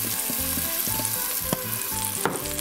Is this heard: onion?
yes